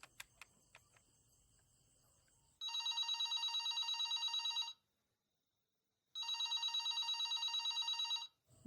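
A telephone rings in two long electronic trilling bursts, each about two seconds, separated by a silent pause, preceded by faint clicks and low background noise.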